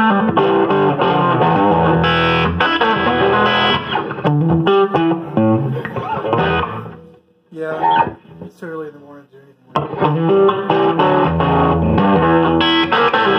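Electric guitar played through a Gibson GSS100 amplifier with its guitar channel cranked, giving loud, distorted chords and riffs that break into a quieter, sparser stretch of picked notes before the full crunch returns.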